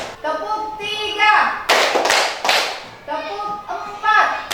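Children in an Indonesian classroom clap in unison, several sharp bursts of group clapping separated by brief pauses, mixed with children's voices and chanting.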